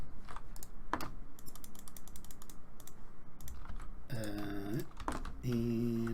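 Loud computer mouse clicks come in quick close runs while a Minecraft game plays, with tonal game sounds chiming in toward the end.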